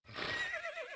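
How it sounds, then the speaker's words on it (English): A single horse neigh from the medieval strategy game Knights and Merchants, a short, faint whinny that rises and then wavers downward over about a second, heard alone. "Poor horses."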